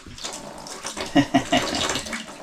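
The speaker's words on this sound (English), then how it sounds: "Cold water straight in there." Cold water from a tap runs into a plastic bathtub in an abandoned cottage, a steady close splashing with a few brief louder gushes, with no talk over it.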